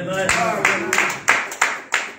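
A church congregation claps in a steady rhythm, about seven crisp claps in quick succession, loud and close, with voices mixed in underneath.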